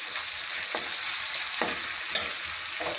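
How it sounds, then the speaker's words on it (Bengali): Chopped tomato and spices with cumin powder fry in hot oil, a steady close sizzle with a few soft stirring scrapes in a home kitchen, no talk. "আমি একটা টমেটো কেটে দিয়ে দিচ্ছি তেলের মধ্যে, এটা মশলাটা একটু কষাবো।"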